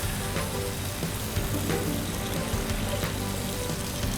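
Asparagus frying in a small amount of oil in a pan, a steady broadband sizzle with faint crackles and pops, close and continuous, with no talking.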